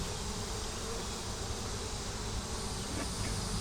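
Honey bees drone in a constant dense buzz around an opened hive among three in a beeyard, close and unbroken with no voices.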